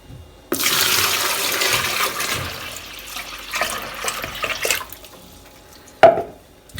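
Water pours steadily into a homemade DC-motor ayran churn for about four seconds, a loud broadband splashing rush that tapers off, followed by a sharp knock near the end as the container is handled.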